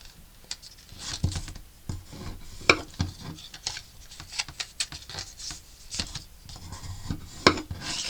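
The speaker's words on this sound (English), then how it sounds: "Let's burnish our score lines." A bone folder is rubbed along scored paper lines on a handmade card, making soft, close scraping strokes in uneven bursts with light taps between them, and no talk.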